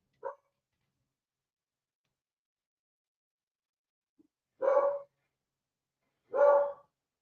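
A dog barks at someone at a locked front door: one short yip, then after a long pause two full, moderately loud barks spaced well apart, with no talking over them.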